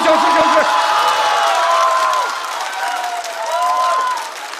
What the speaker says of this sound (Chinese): 掌声再次送给王冕，快消失！